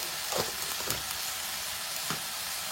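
Tofu and garlic chives stir-fried in a pan, with a steady close sizzle and a few scraping stirs of a spatula, no talking.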